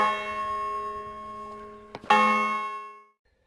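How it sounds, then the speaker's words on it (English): A bell rings with a sustained, ringing tone, struck again with a sharp clang near the end before the sound cuts off. "Let's give it a ding dong, shall we?"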